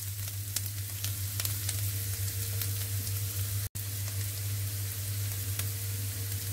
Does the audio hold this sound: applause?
no